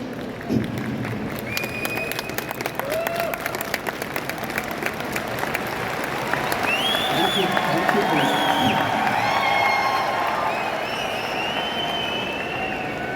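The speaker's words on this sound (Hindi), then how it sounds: "ताली बचा के रखिए" Large crowd at a health and wellness drive in Delhi's Indira Gandhi Stadium claps and cheers, a broad roaring wash with scattered whistles and shouting voices rising through it.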